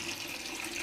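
Tap water runs steadily over a net strainer being washed under it, a close, even hiss and trickle with no talking.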